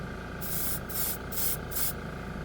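Seymour Extreme FX chrome spray paint blasts from a compressor-fed spray gun at 20 psi onto a 289 engine part in four short bursts of hissing spray over a steady compressor hum.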